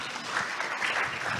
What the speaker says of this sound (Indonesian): tepuk tangan lagi teman-teman semuanya.